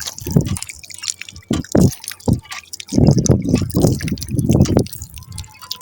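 Water from a hand pump gushes and splashes in uneven surges, loud and close, with short pauses between pours in a rural Punjab setting.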